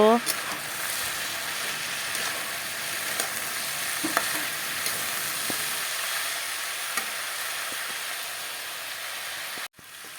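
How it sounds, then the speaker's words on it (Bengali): Potatoes frying in a pan with salt and turmeric, a steady soft sizzle with occasional light stirring clicks, continuing evenly until an abrupt cut near the end; a voice speaks at times. "আমি আলুগুলোকে আরও লাল লাল করে ভেজে নেব"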